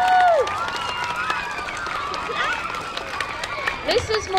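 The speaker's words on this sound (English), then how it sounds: "Can you all give her a round of applause?" An elementary school crowd applauds and cheers for their Teacher of the Year, with a dense wash of clapping and scattered whoops heard nearby, plus a voice that speaks over it.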